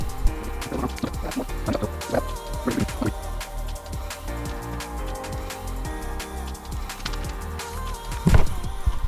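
Air gurgles and bubbles through the coolant in the cooling system of a 2023 KTM 125 XC/SX two-stroke being tipped from side to side, a busy stream of liquid glugs and drips with a louder slosh near the end.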